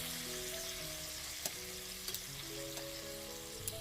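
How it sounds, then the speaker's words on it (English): Chicken pieces fry in bubbly butter in a hot pan, giving a steady close sizzle and crackle with a few sharp pops and no talking. "We are frying it on both sides until it turns golden and smells amazing"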